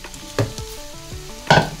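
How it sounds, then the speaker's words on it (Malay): Fried potatoes tipped into a pan of frying egg, hissing and sizzling steadily, with two sharper clattering bursts as the potatoes drop in and are stirred. "Awak masukkan kentang tadi yang dah goreng tu"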